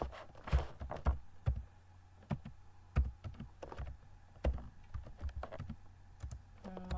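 Typing on a computer keyboard while entering an email address: a steady run of close, sharp key taps with uneven rhythm and a few louder clicks, no voices.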